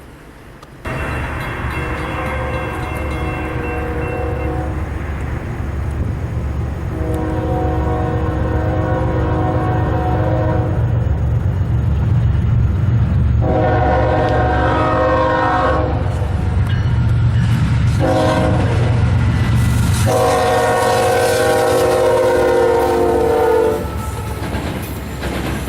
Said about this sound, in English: a southbound NS intermodal train came roaring on by